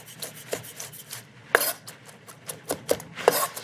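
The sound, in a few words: chopping vegetables with a knife on a cutting board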